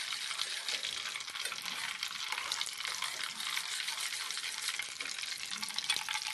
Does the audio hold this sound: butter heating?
yes